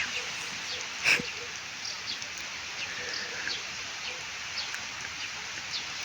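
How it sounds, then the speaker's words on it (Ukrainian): Rain falling outside makes a soft, continuous hiss at low volume, with a single brief louder tap early on and small faint ticks afterward. "Зараз іде на дворі дощ."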